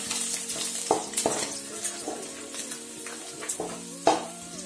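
Garlic and asafoetida with cumin sizzle in hot oil in a pan for okra fry, stirred steadily with a spoon, with several sharp scraping clinks standing out over the constant frying hiss.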